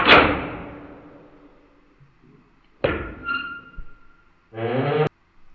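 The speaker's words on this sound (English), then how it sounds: "let's do iron door slamming sound effect" A heavy iron jail door or gate slams repeatedly as a sound effect. Each metallic crash rings out and decays with reverberation. After them come lighter clanks and a final grinding scrape that ends abruptly.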